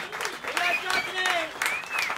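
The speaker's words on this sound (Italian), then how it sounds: "Un applauso." Audience applause at an Italian music venue rises in steady waves, with voices and high whoops or cheers ringing over the clapping.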